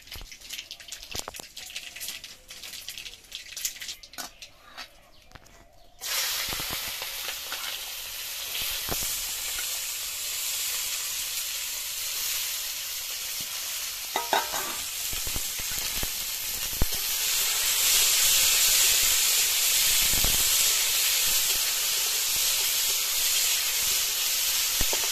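Vegetables drop into a hot pan after black mustard seeds, bringing on a loud, steady sizzle and hiss that grows stronger partway through; quiet clatter comes before, with no voices.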